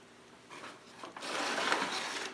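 ArmourFill hot mud drywall compound is mixed to a smoother consistency, heard as a soft, close whirring and swishing that grows louder and steadier after a brief pause, with no talking.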